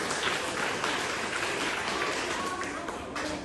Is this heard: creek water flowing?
no